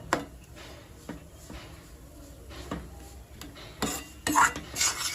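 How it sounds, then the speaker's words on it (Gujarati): Spoon scraping and stirring thick wheat flour roasting in ghee in a pan for sukhdi, irregular rasping strokes up close, growing louder and busier toward the end. "આપણે સારી રીતના લોટને શેકી લઈશું ઘીમાં।"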